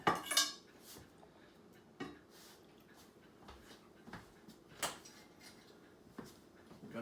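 A pasta pot is set down on a kitchen table, giving a few clanks and knocks of metal cookware spread through the clip, with one sharp clatter near the start and softer bumps after it against quiet room noise.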